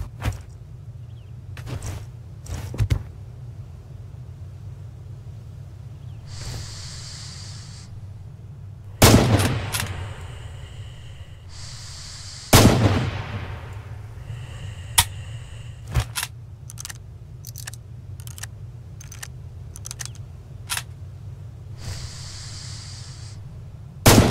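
Rifle shots on a range in the Stalingrad war shooter Red Orchestra 2: Heroes of Stalingrad, single sharp cracks spaced seconds apart with a few echoing reports and bolt clatter over a low steady hum.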